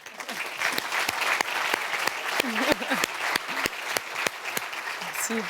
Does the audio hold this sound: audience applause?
yes